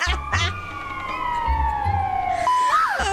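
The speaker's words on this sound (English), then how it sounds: "Good news, there's an ambulance right here." Ambulance siren wailing with a long steady descending tone, loud and close, broken by bursts of low thumping and a short rising sweep near the end.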